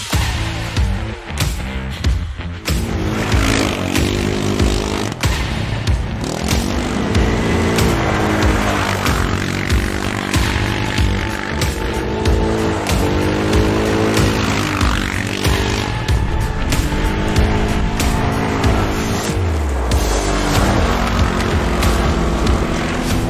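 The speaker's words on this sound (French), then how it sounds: "on se retrouve au guidon du CF Moto, du 625 C-Force, version 2023" A 2023 CFMOTO CFORCE 625 quad's engine runs loudly while riding, its close, throaty drone rising and falling in pitch as the rider accelerates and eases off repeatedly, with wind and terrain noise over it.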